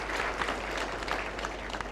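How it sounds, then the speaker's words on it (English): An audience at an anniversary ceremony applauds after a choir performance, dense continuous clapping at moderate level with no break across the short stretch. "Another hand of applause."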